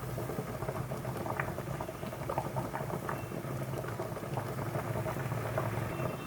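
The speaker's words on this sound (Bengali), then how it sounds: "একটু ভালো করে ফুটুক" Homemade soap base mixture simmering and bubbling in a pot, a dense steady patter of small pops and bursts continuing throughout, close and moderately quiet with no talking.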